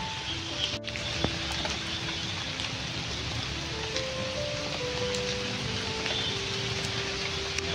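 Steady rain falls outdoors as an even, dense hiss that lasts throughout, with faint tonal hums from passing vehicles underneath and no talking.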